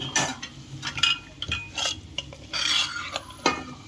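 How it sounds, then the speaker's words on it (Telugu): A spoon stirs sorakaya (bottle gourd) curry in a pot, scraping and clinking against the metal in a run of irregular strokes, close and fairly loud, with no talk. "మధ్యలో కలుపుకోవాలి, లేకపోతే అడుగు అంటుతుంది."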